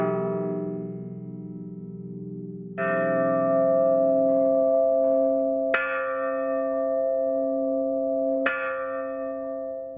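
A church bell rings out with rich, long-ringing harmonic tones, struck afresh several times in succession so that each new strike blooms over the fading hum of the last, loud and with no voices.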